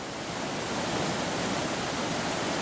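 The waterfall on the Skvarna river at Husqvarna gives off a steady, dense roar of falling water. It is close and loud, with no pauses and no voices.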